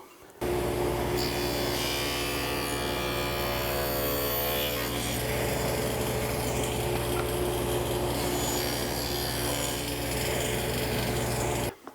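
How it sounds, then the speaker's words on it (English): A power saw cuts a dado through wood stock, a steady loud whirring rasp that holds for about eleven seconds, starting and stopping sharply, with no talk. "I'm going to push it through, flip it around, and then push it through again. That'll guarantee I have a centered dado."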